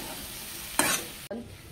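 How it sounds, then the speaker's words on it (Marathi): Okra being dry-roasted and stirred in a pan with carrots, a steady soft sizzle broken by one loud scraping stir, then a brief drop to near silence before the frying noise resumes. "लालसर व्हायला पाहिजे भेंडी भाजून भाजून."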